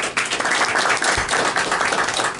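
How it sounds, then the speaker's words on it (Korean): Audience applause at a Korean press launch event for an HP ultrabook, a steady dense wash of clapping filling the room without a break, close and fairly loud. "다시 한번 뜨거운 박수 좀 주세요"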